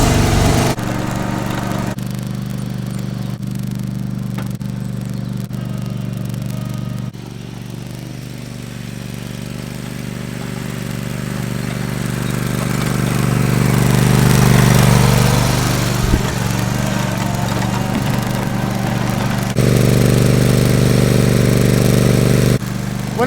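A ride-on mower's engine runs steadily with a low, continuous drone, swelling louder midway as if passing closer, then settling back to a constant hum.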